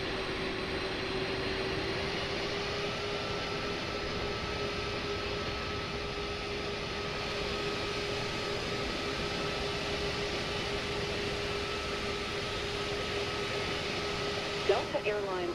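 A Delta Airlines airliner in Microsoft Flight Simulator 2024, its jet engines on reverse thrust after landing, giving a steady, loud whining roar with a sustained tonal hum. The sound holds evenly for the whole stretch, with a brief change near the end.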